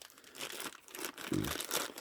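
Plastic packaging around Valeo clutch parts for a Daewoo Lanos crinkles and rustles in short bursts, close up, with a louder crunch toward the end.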